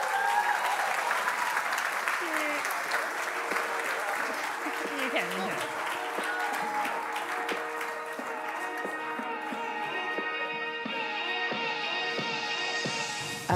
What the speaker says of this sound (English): It's a big round of applause as we celebrate Kate Maloney.